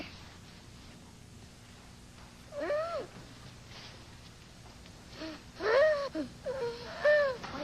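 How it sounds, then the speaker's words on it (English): Strained, wheezing breaths with a moaning, whimper-like pitch, coming in a short burst and then a longer run of rasping gasps, close by in a quiet room. "She's breathing funny."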